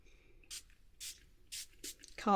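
Colour spray hits a handmade journal card in four short, breathy hisses spaced about half a second apart, close and fairly quiet, with a brief voice at the end.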